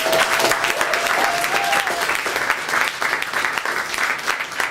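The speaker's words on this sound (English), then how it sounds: "Give them a great round of applause." An audience at a club breaks into loud, sustained clapping, dense and even for several seconds, with a faint tone briefly audible beneath.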